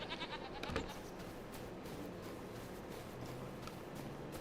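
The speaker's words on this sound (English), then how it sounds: "How's our little goats doing?" Goats bleat quietly in the Farming Simulator 25 video game, faint and partly masked by steady background ambience and game noise.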